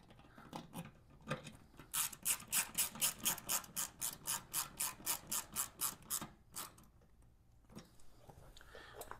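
An 8 mm socket wrench ratchets rapidly while tightening a bolt on a 2023 Lifan KPM 200cc motorcycle: a quick, even run of about twenty close, crisp clicks that stops, then a few scattered ticks follow.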